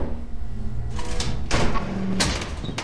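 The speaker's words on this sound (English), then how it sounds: "That was the gate closing behind us." Garage gate in the Lethal Company video game rolling shut, a short run of metallic clanks and thuds over a low rumble, fairly close.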